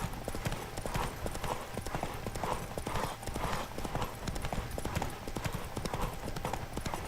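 A horse gallops in The Witcher 3, its hooves beating in fast, continuous rhythmic clip-clops that are close and steady throughout, with faint speech in the background.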